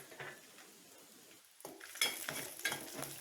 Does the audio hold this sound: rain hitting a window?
no